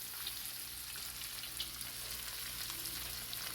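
Bacon sizzles and spits on a non-stick griddle, a steady close crackle with small pops and no voices.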